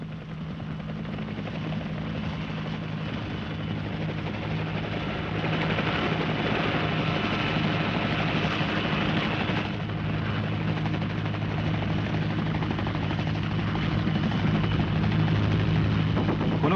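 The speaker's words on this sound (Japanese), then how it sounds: "第10師団第33普通科連隊のヘリボン訓練が行われた。" Military helicopters roar continuously and loudly during infantry heliborne training at a Japanese exercise range in 1972, a steady dense rotor and engine drone with no break.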